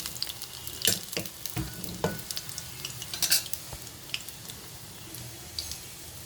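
Prawn and red lentil fritters sizzle in hot oil while being turned one by one, with irregular clinks and scrapes of a spatula over a steady frying hiss, close and moderately loud, no talking.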